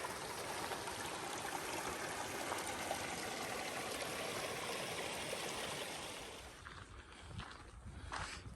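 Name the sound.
small mountain stream trickling from its source over gravel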